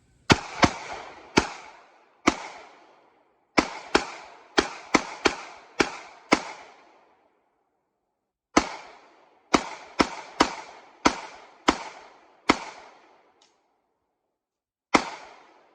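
Rapid bursts of pistol shots from a Ruger LC2 fired one-handed, loud and sharp, coming in quick strings of several cracks with brief pauses and a longer gap midway.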